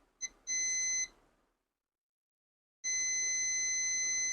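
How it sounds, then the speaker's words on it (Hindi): A multimeter beeps while probing a phone circuit line during a dead mobile repair: a short tick, then a steady tone about half a second long, silence, then the tone resumes and holds. "यहाँ पे भी बीप आ रही है लेकिन वैल्यू आ रही है।"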